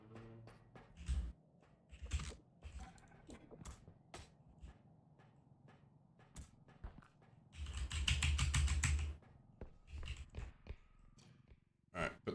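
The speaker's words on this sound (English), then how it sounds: "Can you hear the keyboard?" Computer keyboard keys clatter in scattered bursts and a dense run of fast typing during a game stream, fairly faint and close, with a voice speaking between the taps.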